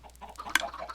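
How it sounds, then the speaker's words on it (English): Chickens cluck in Minecraft near a hopper that collects their eggs, a brief burst of game fowl calls with one sharper squawk in the middle, fairly close and alone. "These chickens over here will drop their eggs into the hopper."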